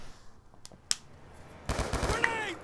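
Gunfire in Call of Duty Black Ops II multiplayer begins with a single sharp crack. After a brief quiet stretch, a dense burst of rapid automatic fire follows, loud and close.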